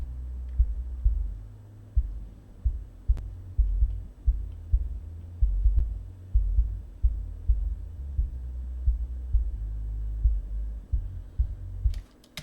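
Kick drum and bass filtered down to 50 hertz and below, leaving only a deep low-end thump that pulses steadily about twice a second, with the bass droning underneath, loud and alone.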